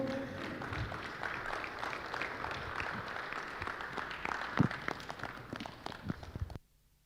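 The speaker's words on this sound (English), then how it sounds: "Let's give him a round of applause as he comes through." A conference audience applauding steadily at moderate distance as a speaker comes through, scattered claps and some footstep-like thumps, cutting off abruptly near the end.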